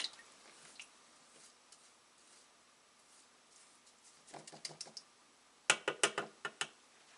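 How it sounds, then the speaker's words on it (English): A mop paint brush being rinsed in a water container during a painting session, with faint dripping at first, then a cluster of close, sharp tapping and splashing clicks as the brush is swished and knocked. "I'm going to have to wash out my mop brush here."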